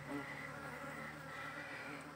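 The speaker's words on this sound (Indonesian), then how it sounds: "ini bukan lebah yang udah masuk, tapi ini lebah yang baru survei" Wild scout bees buzz around a bee trap box in a steady, faint hum with no break, under a low background drone.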